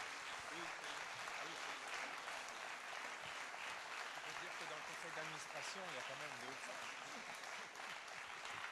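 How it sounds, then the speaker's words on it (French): A conference audience at a national meeting applauds the organizing team, a quiet, steady wash of clapping heard from a distance while a voice murmurs underneath. "je vais vous demander d'applaudir toute cette équipe qui a organisé ces rencontres"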